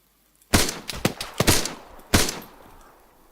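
Gunfire at zombies in a game mission, several sharp loud shots in an irregular cluster, then a final shot ringing out and decaying, with no talk.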